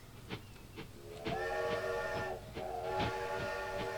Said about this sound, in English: Just solid whistle there.